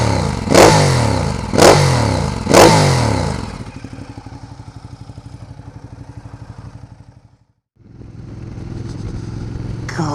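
A 2011 Ducati Diavel Carbon motorcycle fitted with a Zard exhaust blips its throttle in three sharp, loud revs. It then settles into a throbbing idle, cuts out briefly and picks up again.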